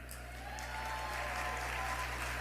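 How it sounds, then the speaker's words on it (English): An audience applauds at a Virginia Democrats' party dinner, a sustained, moderately distant patter of many hands clapping at an even level, with a low hum running underneath and no speech. "What about another round of applause for her?"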